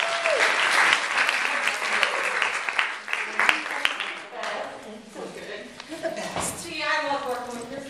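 A room full of people applauding to welcome a speaker onto a stage, dense clapping that thins toward the end as a voice begins talking over it.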